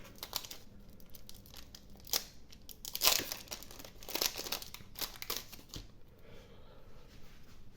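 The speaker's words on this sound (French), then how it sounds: "ouvrir les boosters." Foil Magic: The Gathering Final Fantasy booster packs are torn open and crinkled close up, with bursts of sharp ripping and crumpling in irregular rhythm that quieten toward the end.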